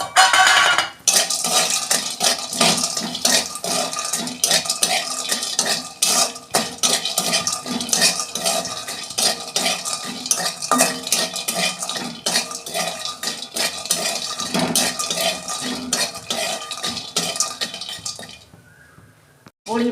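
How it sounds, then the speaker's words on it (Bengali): Lentil dumplings (bori) fry in hot oil in a kadai, a close, busy crackle of sizzling broken by frequent metal spatula clinks and scrapes, continuing for most of the stretch before fading near the end. "ওই তেলেতেই বড়িগুলো দিয়ে দিচ্ছি।"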